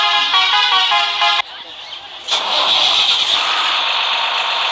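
A bus engine starts in the Bus Simulator Kerala game, loud and close. A steady roar builds after a pause, follows a brief tonal sound and settles into a running drone.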